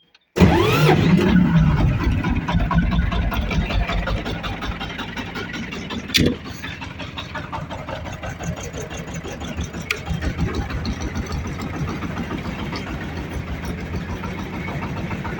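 A Shifeng mini tractor engine cranks and catches, then settles into a steady, loud, knocking idle close by, with a brief sharp clatter partway through.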